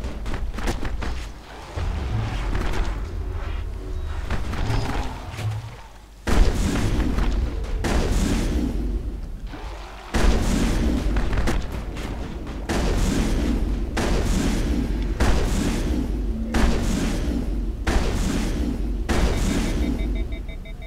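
Heavy gunfire in the Mass Effect video game pounds out in repeated loud bursts of booming shots, some clustered rapid volleys and some single heavy thuds, continuing steadily with brief gaps.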